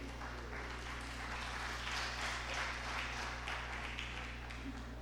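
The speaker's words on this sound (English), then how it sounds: "A round of applause to him." Conference audience applauding a panelist at the AFNIS 2025 session, a modest, steady round of clapping heard faintly over a constant low electrical hum from the hall's sound system.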